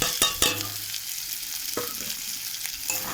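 Maggi masala and egg bhujia stirred in a frying pan: a few sharp scraping clacks of a utensil at the start, then a steady close sizzle with more scrapes and stirring knocks.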